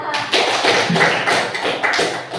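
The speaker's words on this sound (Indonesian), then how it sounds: "tepuk tangan untuk Dela" Rhythmic clapping in a classroom for a pupil who has just answered a question about Surah Al-Fil, with steady bursts of hand claps running close and fairly loud throughout.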